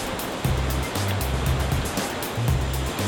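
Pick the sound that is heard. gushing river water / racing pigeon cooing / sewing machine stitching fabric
gushing river water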